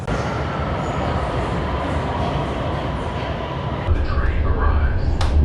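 A Shenzhen metro Line 1 train rumbles steadily underground, a constant low roar of wheels and carriage noise that swells slightly near the end, with voices faintly audible over it.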